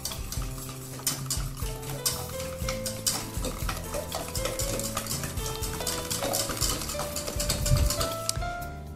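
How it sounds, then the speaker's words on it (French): Eggs and sugar whisked together in a bowl, a steady run of quick metallic scrapes and clinks against the dish, fairly close and continuous for the whole stretch, with no talking. "prendre un fouet et mélanger le tout"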